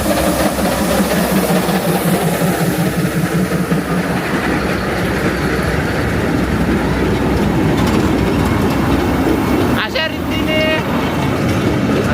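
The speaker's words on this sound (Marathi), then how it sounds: "मित्रांनो पाहू शकता टॉय ट्रेन आलेली आहे आपली" The Matheran toy train rumbles past nearby with a continuous clattering roar, and a brief squeal or whistle cuts through near the end.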